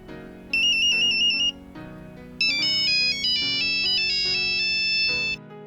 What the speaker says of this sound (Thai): เสียงเรียกเข้าที่ดังขึ้นทำให้ผมต้องดูชื่อคนที่โทรมาก่อนที่จะรับ